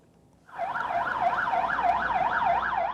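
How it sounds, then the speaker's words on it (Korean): Several fire engines leaving a fire station on an emergency call, sirens switching on abruptly and wailing loudly with a fast rising-and-falling sweep. "긴급 출동 사이렌을 울리며 소방차 여러 대가 소방서를 빠져나옵니다"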